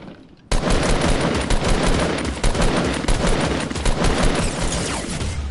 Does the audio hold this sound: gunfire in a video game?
yes